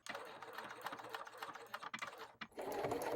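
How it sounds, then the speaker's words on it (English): A sewing machine runs steadily while stitching the bottom seam of a fabric dopp kit with a zipper foot, a close, continuous whirring chatter that dips briefly near the end before picking back up. "I'm sewing straight along the bottom seam"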